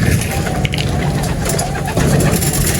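Racing pigeons arriving at the loft after the first lap of a 150 km summer derby in San Fernando, La Union, coo and flutter amid loud, busy ambient noise, with a voice talking over them.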